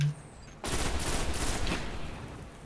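A sudden burst of video game gunfire starts after a brief quiet moment and becomes a sustained, dense rattle of shots with a noisy, washed-out texture.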